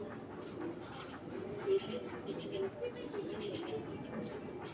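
A big-headed male Giribaz hammer pigeon coos faintly in low, repeated murmurs, half buried under a constant background hum.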